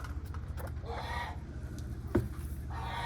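Pet chickens cluck softly and intermittently at feeding time outdoors, with a steady low background hum and one sharper call near the end.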